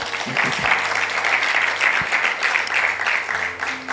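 A church congregation applauds together at a sermon, a dense and steady wash of many clapping hands that holds for several seconds before easing slightly at the end, with a faint low hum beneath.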